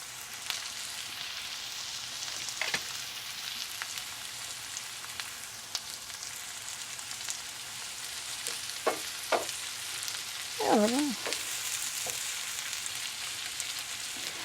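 Onions fry in hot oil on high heat for a chicken curry, giving a steady close sizzle with occasional sharper crackles and the brief scrape of stirring, with no voices over it.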